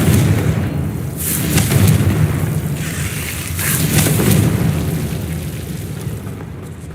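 A Confringo blasting spell exploding in Hogwarts Legacy, heard as deep, rolling booms that swell and fade over a steady rumble, with no talking.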